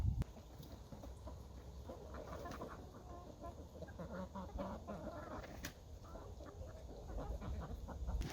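Young Orpington chickens, about 16 weeks old, cluck softly in a barn with scattered faint, uneven calls over quiet background noise.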